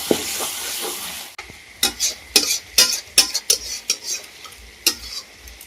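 Chicken curry with green chillies stirred in a pan, with a spoon scraping and clacking in a quick irregular rhythm of sharp strokes over a soft background sizzle, close and clear with no talking.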